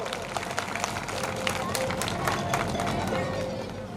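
Audience at a Manamora village get-together (sneh milan) applauds a donation for the village hall, a steady crowd of hand claps and babble sustained for several seconds.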